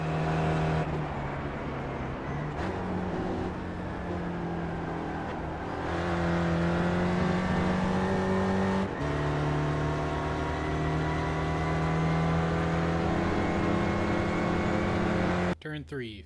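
An SRF race car engine in iRacing, at Phillip Island, runs at full power with a steady, harmonic-rich drone that shifts pitch now and then, while a narrator talks over it throughout.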